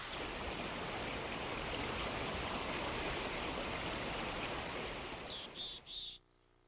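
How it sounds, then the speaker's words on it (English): A mountain stream swollen by melting snow and ice rushes and cascades down the slopes in a constant, full roar, fairly close, before cutting off near the end, with faint chirps over the water and no talking. "water runs strong from the snow and ice melting on the slopes and falls in a glorious variety of cascades"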